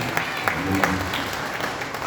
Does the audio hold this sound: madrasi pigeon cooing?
no